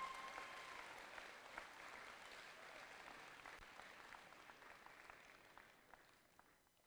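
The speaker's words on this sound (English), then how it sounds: "Can we get a round of applause for all that," Steady applause from a crowd at a championship closing ceremony fills the whole stretch, fairly distant, gradually fading toward the end.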